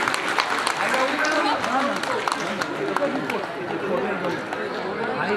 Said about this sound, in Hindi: नॉर्थ 24 परगना जिलों के लिए जोरदार करताली